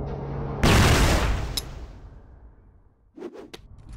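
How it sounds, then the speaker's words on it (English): A flash grenade is thrown in the CrossFire shooter game, giving a sudden loud burst with a hissing, fading tail, followed a moment later by quick metallic clicks and taps. "Flash grenade."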